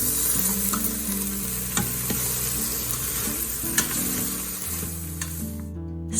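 Beef browns in an Instant Pot after the spices, hissing and frying continuously while a spoon stirs it with soft scrapes and knocks, over light background music.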